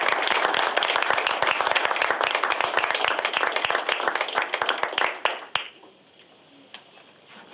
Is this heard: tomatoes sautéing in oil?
no